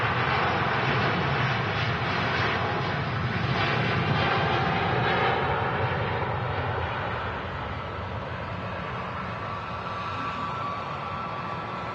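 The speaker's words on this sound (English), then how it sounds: "Rolls-Royce Trent XWB engines thundering out Manchester Airport" A Singapore Airlines Airbus A350 powered by Rolls-Royce Trent XWB engines takes off from Manchester Airport, a loud continuous jet roar that holds steady and then eases slightly as the aircraft climbs away.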